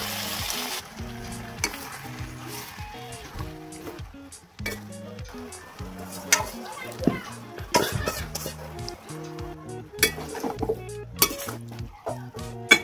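Potatoes and bottle gourd greens stir-fried in a home kitchen pan, with a soft sizzle under repeated scraping and clinking of a spatula against the metal, irregular stirring strokes throughout.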